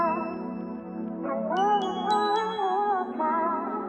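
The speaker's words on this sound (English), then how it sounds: "I got this bell sound called Zy Bells. It's a factory sound." A sustained factory-preset synth bell patch called Zy Bells rings in layered, shimmering tones with a few bright high pings, playing a short melodic phrase, clear and alone with no voices.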